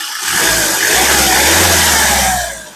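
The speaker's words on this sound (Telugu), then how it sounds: "ఈ కార్కి ఒకసారి యాక్సిలేటర్ చేయడం" A 2016 Hyundai Creta SX engine is revved once up close, rising from idle to a smooth sustained drone before dropping back.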